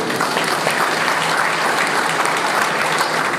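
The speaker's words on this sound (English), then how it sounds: "We need to applaud them." An audience at a Ghanaian school speech event applauds, producing dense, steady clapping from a large crowd without pause, loud and continuous throughout.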